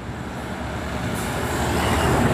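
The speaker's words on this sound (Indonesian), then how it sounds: "Melintas bus pariwisata" Tour bus on Jalan Wonosari in Jogja rolling past, a steady broadband road roar building louder toward the end as it nears, no voices.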